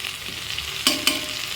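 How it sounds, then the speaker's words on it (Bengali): Masala-coated fish frying in oil in a home kitchen pan gives a steady soft sizzle, with two quick utensil clinks near the end as it is turned, close and with no voices. "যতক্ষণ না কাঁচা মশলাটা ভাজা হবে ততক্ষণ ঘুরিয়ে ঘুরিয়ে মাছটাকে ভাজা করব।"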